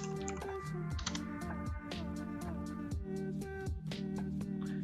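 Fingers type steadily on a computer keyboard, with quick, evenly spaced key clicks running under continuous background music throughout.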